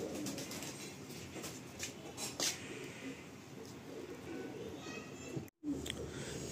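Madrasi pigeons in a loft give soft, faint coos over a quiet, hissy background with occasional rustles and a brief dropout near the end.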